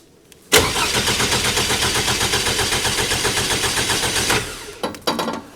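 Toyota 1AR-FE 2.7-litre four-cylinder in an MR2 cranking over on the starter with its injectors disabled, a loud steady rhythmic churn lasting about four seconds that never catches, followed by a few short clunks.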